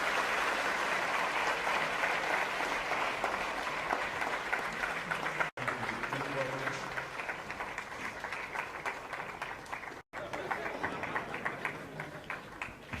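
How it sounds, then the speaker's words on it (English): A large audience at a talk event gives sustained applause, a steady wash of many hands clapping at fairly even loudness for over ten seconds, with faint voices underneath. "Ladies and gentlemen, the Sadhguru, a round of applause."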